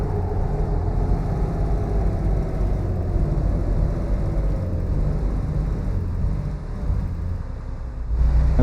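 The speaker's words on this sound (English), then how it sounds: "That's the engine brake." Engine brake of a 2019 Freightliner Cascadia in American Truck Simulator, a steady loud low rumble with a falling drone as the stock truck slows from speed, heard alone.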